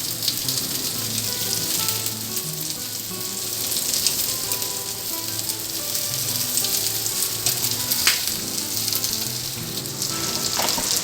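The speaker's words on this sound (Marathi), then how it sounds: "हे बघा एका बाजूने छान फ्राय झालेली आहे." Prawns, Marathi-style kolambi fry, sizzle steadily in a hot pan, a loud, dense, continuous crackle with no talking throughout.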